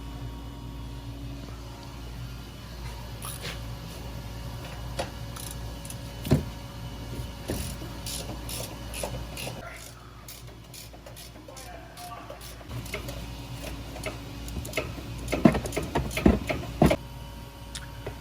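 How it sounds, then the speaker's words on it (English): Tools work the 18mm upper shock bolts on a Ford F150, with intermittent ratcheting clicks and metallic taps over a low hum, moderately close and without talk. "Next, we're going to remove the 3 18mm upper shock bolts."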